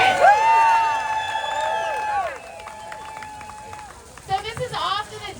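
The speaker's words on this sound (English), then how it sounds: "You can cheer for that. Let's hear it." A crowd at a May Day (International Workers' Day) labor rally in Orange cheers and whoops loudly, with shouted tones rising and falling, then a fresh burst of clapping and cheering near the end.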